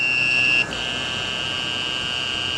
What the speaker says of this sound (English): you can hear the inverter motor slowing down, plus an alarm going off